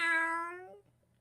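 A single drawn-out meow, bright and clear, fading away after under a second; likely a person imitating a cat.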